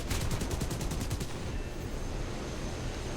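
Rapid machine gun fire from an aircraft in a War Thunder dogfight, a loud burst of evenly spaced shots lasting about a second before giving way to a steady roaring engine drone.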